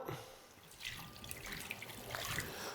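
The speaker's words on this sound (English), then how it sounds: "I'm gonna put some warm water in the skillet." Warm water poured into a dirty cast iron skillet, a quiet trickle and dripping with a soft splash that stays low and steady throughout.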